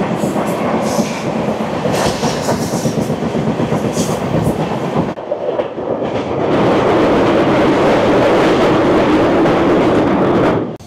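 The Garib Rath Express on the Agartala–Kolkata line rumbles loudly along the rails near Pathorkhola. A steady clattering roar briefly dips partway through, then swells louder and fuller, with no voices.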